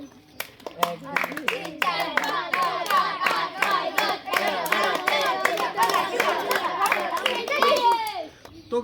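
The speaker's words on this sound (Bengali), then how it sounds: "তো সে এখন 20টা হাতের তালি দিবে।" A child claps twenty times in a row during a funny outdoor game, the sharp claps landing in a quick, even rhythm. Children and a crowd shout and talk loudly over and around the claps the whole time.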